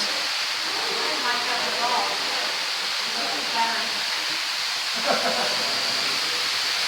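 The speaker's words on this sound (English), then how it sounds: "Here's the waterfall room." Steady rushing water from a waterfall inside Marvel Cave, a continuous broad hiss echoing in the cavern, with faint voices and a few brief sounds rising over it.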